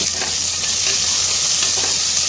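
Two large chopped onions fry in a pan for coconut milk rice, giving a loud, continuous sizzle close up, with soft stirring scrapes recurring throughout.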